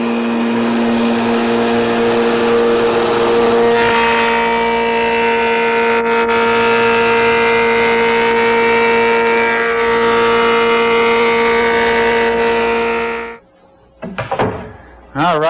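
A woodworking machine in a home workshop runs steadily with a loud, sustained tonal whine as stock is fed through for a final cleaning pass. It stops abruptly near the end, followed by brief softer sounds.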